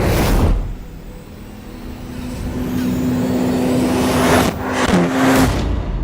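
A Honda CR-Z hybrid accelerating in sports mode, its engine and electric motor working together: a loud, close engine drone that rises steadily in pitch, eases briefly, then climbs again.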